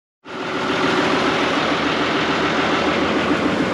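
A tractor engine starts up and then runs steadily at idle, a loud, continuous low mechanical rumble with no voices, recorded on a farm after pea sowing.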